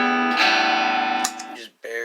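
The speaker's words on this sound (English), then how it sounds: "you're just barely getting a little bit of distortion" Electric guitar played through an amp's overdrive channel with the gain set low, giving a slightly distorted chord that rings steadily, shifts briefly, cuts out for a moment, then sounds again.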